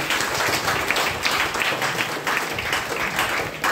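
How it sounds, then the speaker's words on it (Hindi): A crowd at a gathering breaks into loud, dense applause that stays steady and continuous throughout, close and without a break. "जोरदार ताली जाते हैं।"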